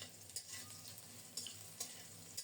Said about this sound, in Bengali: ঢেকে ঢেকে অল্প তাপে একটু সময় নিয়ে খুব সুন্দর মতো কাঁচকলাগুলো ভেজে নেব।